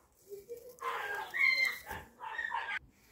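Dogs in neighbouring yards bark and yelp in short bursts, sounding somewhat distant, with several calls overlapping across a few seconds.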